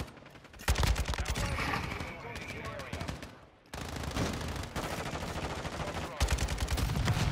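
Kastov 762 assault rifle, an AK-47 type, firing in Modern Warfare 2: loud, close, rapid automatic bursts in a dense rattling rhythm, broken by a short pause near the middle, with other gunfire and a voice mixed in.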